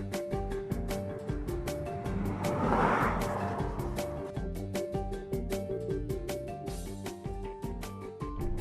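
Inside a Mitsubishi ASX with a 1.8 litre diesel engine on the road, a steady engine drone and road rumble with a rise in roar midway and rapid ticking clicks throughout, no speech.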